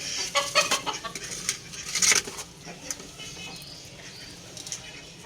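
A hen caught in electricity wires clucks in short, soft bursts, with a few sharper clatters nearby and quiet background noise between calls.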